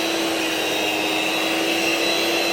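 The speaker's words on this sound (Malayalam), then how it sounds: "നമ്മൾ ബീറ്റ് ചെയ്തുകൊണ്ടിരിക്കുകയാണ് കേട്ടോ." An electric mixer whips cream and cream cheese for a red velvet cake, giving a steady, loud motor whine that runs unbroken from start to finish with no one talking.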